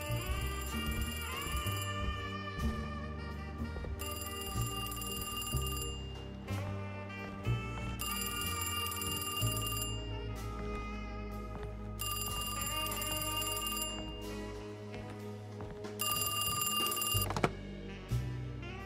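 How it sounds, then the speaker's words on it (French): A telephone rings in the video game Alone in the Dark remake, bursts of bright bell-like ringing that repeat at regular intervals over a dense, droning music and ambience bed, with no talking. "Un téléphone qui sonne, c'est où ?"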